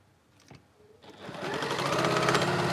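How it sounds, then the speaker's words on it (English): A sewing machine stitches quilt patches together, starting up after a few light clicks and then running in a steady, fast, close hum. "I know that's got to go on there, and I'm sewing that together."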